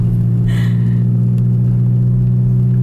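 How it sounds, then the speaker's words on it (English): A car with a broken exhaust runs at a steady, loud, low rumble, close by and unbroken for the whole three seconds. "They probably heard this exhaust."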